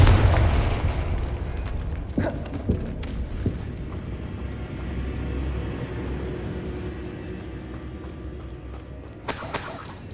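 A Confringo blasting spell from Hogwarts Legacy goes off with a heavy opening boom, followed by a few sharp cracks and a long rumbling tail, and ends with a brighter burst.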